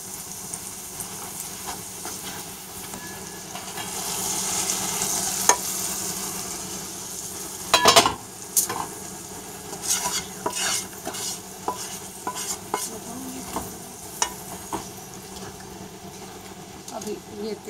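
Tempering (baghar) sizzling and frying in a pan while it is stirred for a curry pakora dish, a steady broadband hiss with scattered scraping clinks, brief louder stirring bursts around the middle.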